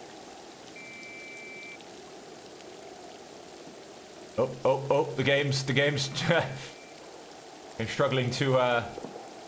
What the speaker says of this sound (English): Of course, it's still raining.